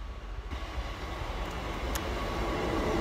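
A passing train in snowy weather, heard as a steady low rumble and rolling rail noise that swells slightly and holds throughout, with no voices.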